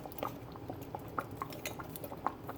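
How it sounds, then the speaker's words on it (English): A spoon stirring undrained beans and their juices into a pot of white chicken chili, with light, irregular clinks against the pot over a soft, wet churning close by. "so I'm just going to stir those in"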